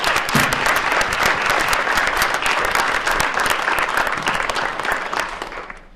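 An audience at a career and technical education summit gives sustained, dense applause, loud and steady for the whole stretch before tapering slightly at the end.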